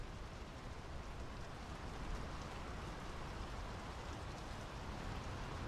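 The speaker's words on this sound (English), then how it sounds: "The rain's picking up." Steady rain pours down in the video game Draugen, a dense even hiss of falling drops with no breaks, fairly quiet and without voices.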